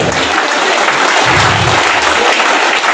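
A roomful of trainees in Delhi clap hard in hijra style, a steady, crowded wash of sharp palm strikes lasting a few seconds, close and loud, without talk.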